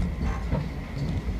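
Nippori-Toneri Liner automated guideway train running steadily, a continuous close rumble and rolling rattle with faint rhythmic clatter, no voices.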